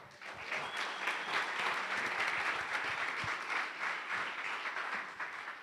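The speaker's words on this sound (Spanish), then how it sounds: "Aplauda al Señor" Church congregation applauding together in a worship service, a thick, even wash of clapping that fills the room and holds steady for several seconds, somewhat distant.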